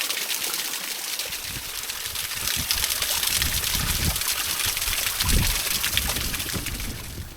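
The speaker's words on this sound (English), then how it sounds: "before long we found a lovely waterfall where we cooled off, got some water" A mountain waterfall and stream in the Arrochar Alps of Scotland pour and splash in a steady, loud, close rush of flowing water, with no voices.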